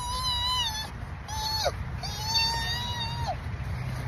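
A hyena gives a whiny, high, wavering call in a few short drawn-out cries with brief gaps, fairly near over a low steady background rumble.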